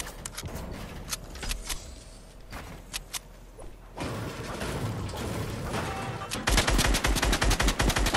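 In a video game, a Band-Aid cannon fires rapid sharp bursts mixed with metallic mechanical clatter, sparse at first and then building into a dense, loud volley of shots.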